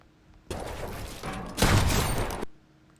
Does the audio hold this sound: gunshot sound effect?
yes